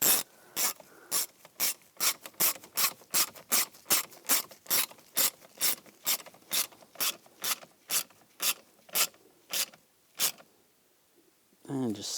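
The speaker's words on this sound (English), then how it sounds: "And while we're there, we're going to put that screw in. Get that started." Ratchet driving in a screw during heater core replacement on a 2010-2017 Chevrolet Equinox: a long run of sharp, evenly spaced clicks, close and loud, stopping near the end before a brief sound.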